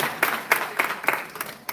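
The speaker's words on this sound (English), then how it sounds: "Ladies and gentlemen, give a round of applause to" A small audience at a township Q&A meeting gives a brief round of applause for circuit court candidates, with sparse, uneven claps from a handful of people nearby.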